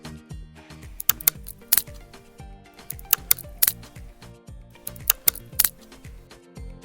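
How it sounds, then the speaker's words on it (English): Refrigerator gives off irregular sharp clicks and snaps, close and fairly quiet, scattered in small bursts with light ticking between them. "Do you hear a clicking or snapping sound? Like something hitting a solid object?"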